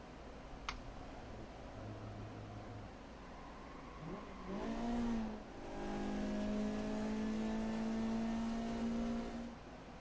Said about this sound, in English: I need to hear the engine again